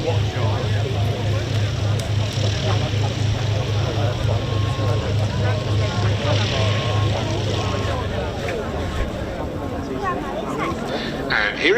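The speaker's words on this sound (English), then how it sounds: "And here it is, running in from the right, the Boeing B-17G Flying Fortress, named Sally B." The Boeing B-17G Flying Fortress Sally B runs in at the East Kirkby airshow, its four piston engines giving a deep, pulsing propeller drone that holds steady and then eases off, with a commentator talking over it.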